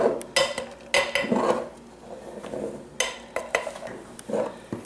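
Flour shaken back and forth inside a greased tube cake pan gives a run of dry scraping and light metallic rattles in uneven bursts, close and fairly quiet.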